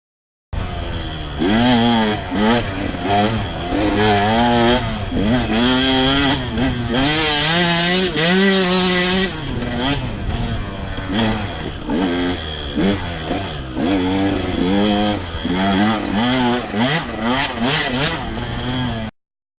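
A two-stroke engine runs loud and steady for about nineteen seconds, its buzzing note repeatedly rising and falling as the revs climb and drop.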